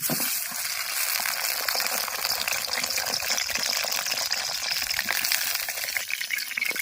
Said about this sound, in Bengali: কড়ার মধ্যে তেল দিয়ে দেব তেলের উপরে বেগুন ছেড়ে দেব